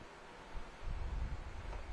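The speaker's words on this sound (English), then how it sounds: "It has turned into kind of a windy evening, but still pretty hot." Wind gusts at an outdoor evening baseball game, a low rumbling buffet that swells midway and stays steady, close to the microphone with no talk.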